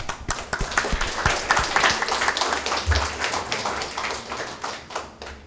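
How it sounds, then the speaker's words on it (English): An audience at a pesantren gathering for a visit from the US embassy's cultural attaché claps loudly and close, a thick burst of many hands that holds steady and tapers off near the end. "Our distinguished audience, give a big applause for us."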